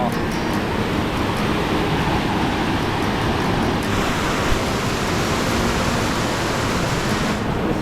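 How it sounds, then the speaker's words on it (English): A steady, loud rush of falling water fills the scene, a broad continuous roar with no breaks, as if the falls are close by. "There's a waterfall right over there."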